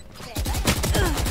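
An automated turret in a video game opens fire with a rapid burst of close, loud gunshots lasting about a second after a brief quiet lead-in.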